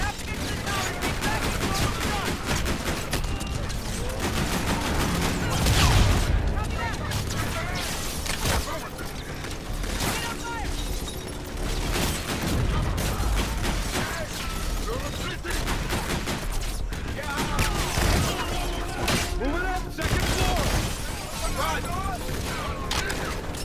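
Guns in Call of Duty Infinite Warfare fire relentlessly at a fleet, a dense clattering barrage of shots, booms and mechanical noise, loud and continuous, with voices speaking over it at times.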